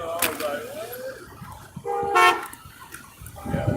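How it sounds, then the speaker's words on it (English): A single car horn honks briefly at a street protest in Lakewood, Colorado, amid crowd noise and people talking nearby. "There's a honk."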